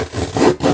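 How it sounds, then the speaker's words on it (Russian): Rubbing, scraping sound of a cardboard box of Revolution Beauty makeup palettes being opened, two brief close scratchy swipes with no talking. "Давайте открывать скорее коробочку"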